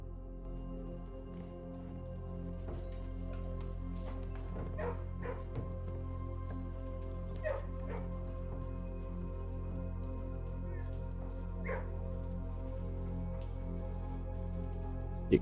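Dogs bark, yip and whimper in a kennel room in the Blue Prince video game, with scattered sharp barks over a steady low hum, moderately quiet throughout.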